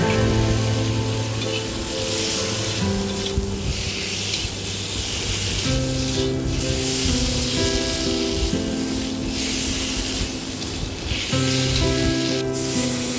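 Ginger, cumin and mustard paste fry in a pan with small fish and potatoes, giving a steady, busy sizzle that runs continuously beneath background music.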